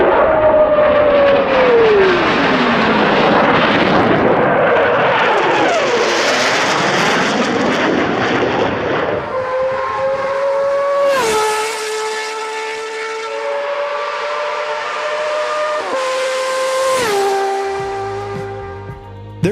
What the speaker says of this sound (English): As soon as this motorcycle hit the road, its 6-barrel exhaust simply scared people.